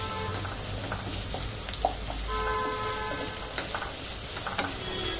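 Ginger garlic paste frying in oil for a South Indian vegetable kurma, giving a steady broadband sizzle with scattered clicks and scrapes of stirring, close and moderately loud, with a low rumble underneath.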